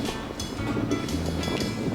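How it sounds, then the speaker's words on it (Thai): Choppy waves lap steadily around a moored fishing raft on the Srinagarind Dam reservoir in the morning, a continuous close wash of water with low wind rumble and no voices. "คลื่น ก็ยังค่อนข้างแรงอยู่นะครับ"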